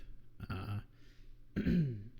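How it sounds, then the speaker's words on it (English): Someone nearby clears their throat twice, two short, rough, gravelly rasps separated by a brief pause. "I'm a little scraggly and have to clear my throat"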